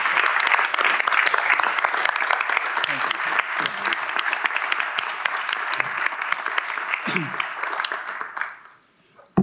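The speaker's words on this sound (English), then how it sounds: "Please join me in a round of applause for our commissioner." A county commission meeting audience gives a loud, sustained round of applause, steady dense clapping that fades out near the end.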